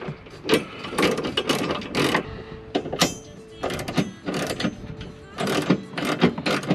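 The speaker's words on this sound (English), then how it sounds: "I got one side ratchet tightened, now I do the other." Ratchet wrench tightening the towing hitch bolts on a second-generation Hyundai Veloster, heard as repeated bursts of fast clicking strokes, close and fairly loud, with brief pauses between the bursts.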